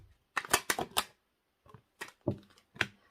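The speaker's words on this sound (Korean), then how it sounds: "추가 카드 좀 더 뽑을게요" Extra tarot cards drawn from a deck and laid down, heard as quick bursts of crisp, papery snaps and flicks in close-up, clustered in short groups with brief pauses between.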